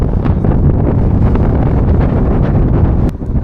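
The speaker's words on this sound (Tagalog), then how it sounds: "Napakalakas ng hangin." Strong wind buffets the microphone near snowy mountains, a loud, continuous roar that rushes and gusts before dipping briefly near the end.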